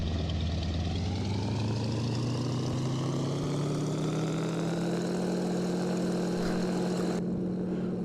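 Yak-18T propeller engine spooling up to full power in X-Plane 11, a loud, steady droning roar that climbs gradually in pitch and stays continuous throughout with no talk over it.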